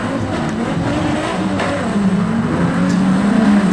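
Street stock race cars surge away from a standing start at an Australian speedway title heat, a steady roar of several engines building in loudness as the field accelerates together.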